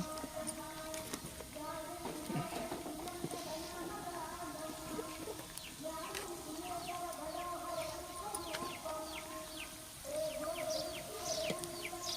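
Chickens cluck and call intermittently, fairly quiet and a little distant, over soft background noise.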